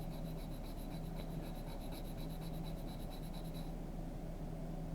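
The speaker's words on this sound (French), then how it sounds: "tu peux le limer tout simplement, tout doucement" A gel nail is filed gently by hand, giving a soft, repetitive rasping scratch that runs steadily close to the listener and stops near the end, with no speech over it.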